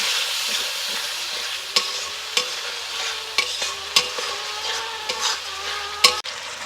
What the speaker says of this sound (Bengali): আমি মশলার মধ্যে সামান্য পরিমাণে একটু জল দিয়ে দেব, যাতে গ্রেভিটা সুন্দর হয় ও মশলাটাকে খুব ভালো করে কষানো যায়